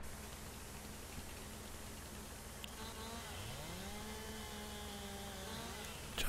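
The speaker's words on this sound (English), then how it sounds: "open up the chainsaw, cut these pieces." A chainsaw in Farming Simulator 19 cuts lumber, its engine holding a steady buzzing drone that rises in pitch midway as the blade bites into the wood, heard alone over a constant noisy hiss.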